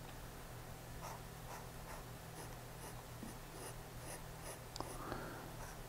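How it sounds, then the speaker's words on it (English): Steel-nib Diplomat Excellence A2 fountain pen writing on paper, a faint, steady scratchy glide with soft rhythmic strokes over low background hum. "Smooth with just a slight bit of feedback. You know that you have a nib on paper"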